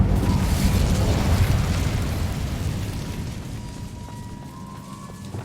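A fire spell, Incendio, cast in the video game Hogwarts Legacy gives a loud, dense whooshing roar of flame that fades slowly over several seconds, with faint tonal game sounds near the end.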